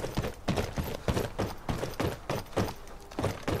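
Horse hooves clip-clopping in the Skyrim video game, a loud, close, regular trotting rhythm of paired hoof strikes repeating steadily with no talking over it.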